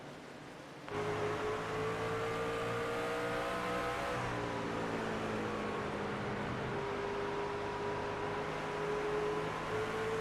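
A racing truck at Bristol rolls through a corner and eases onto the throttle; its engine drones steadily at moderate distance, the pitch sagging and then holding under a faint crowd-and-track wash.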